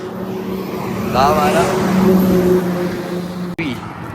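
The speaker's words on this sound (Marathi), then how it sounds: "इथे रस्त्यावर गाड्या जातात" Vehicles rush past on a roadside near Shirdi, a loud steady roar of traffic with wind noise, while someone talks over it and a horn-like tone bends briefly near the end.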